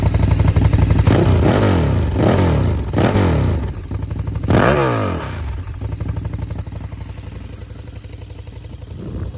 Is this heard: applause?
no